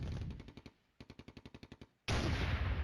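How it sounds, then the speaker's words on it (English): Rapid bursts of mortar and gunfire in the Cold War tank wargame Flashpoint Campaigns: Germany Reforged, two volleys of sharp repeated reports followed by a loud sustained roar, with no talk. "there's some mortar fire coming"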